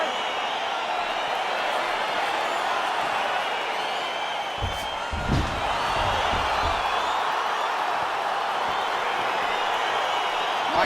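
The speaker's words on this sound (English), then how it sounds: "crowd getting excited as this fight gets underway" A large arena crowd at a UFC Fight Night bout between Alex Pereira and Israel Adesanya roars steadily as the fight gets underway, a dense, continuous wash of cheering with a brief louder swell midway.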